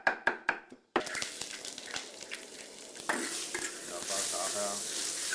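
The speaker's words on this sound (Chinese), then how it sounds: "翻炒至5成熟，" Diced taro and shiitake mushrooms stir-fried in a hot wok for a Hakka stuffed filling: a few quick knocks, then steady sizzling with a spatula scraping and stirring, close up and growing louder toward the end.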